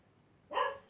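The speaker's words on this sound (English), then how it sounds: "Sorry about the dog." A single sharp bark from a dog named Minnie rings out indoors during a quiet talk, short and fairly loud after near silence.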